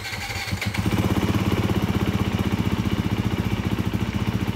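A 2022 Honda CRF 250 RX dirt bike engine warming up, starting with a brief rough catch and then settling into a steady, loud, rapid idle thump close by, with no talking.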